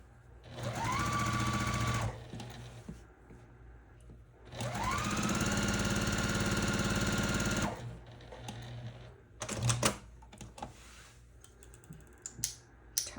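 Two close bursts from a sewing machine stitching quilt blocks, each revving up to a steady whir before stopping, followed by scattered clicks and taps of fabric handling.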